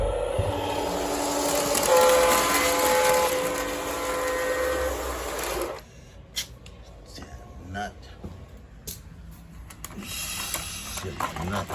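Santa Fe model train on a garden railroad, a whirring, buzzing motor with a sustained horn-like tone that cuts off abruptly midway, leaving faint clicks and rolling noise.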